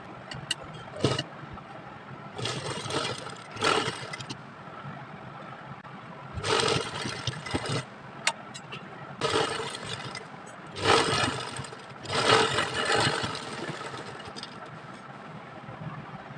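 An electric sewing machine runs in several short whirring bursts with pauses between them while stitching lace onto a garment neckline. The motor hum is steady and close.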